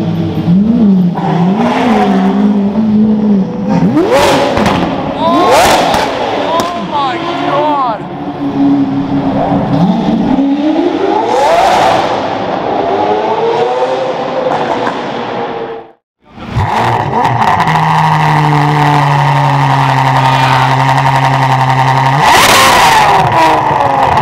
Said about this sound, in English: Two straight pipe V12s.